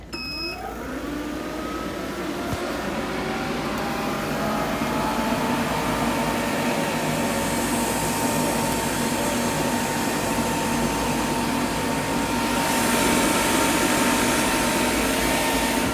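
A refrigerant recovery machine runs while pulling R134A gas from a condensing unit, starting up and then settling into a loud, constant motor drone with a whining tonal hum that holds steady for the whole stretch, no voices over it.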